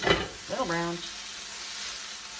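Onion and celery frying in a pan for Thanksgiving dressing, a steady close hiss and sizzle throughout, with a brief voiced sound near the start.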